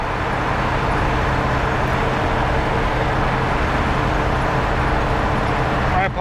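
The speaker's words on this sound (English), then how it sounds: "Obviously this car is sort of loud." Inside a 1957 car on the move, a loud, steady roar of engine and road noise with wind rush fills the cabin without letup from start to finish.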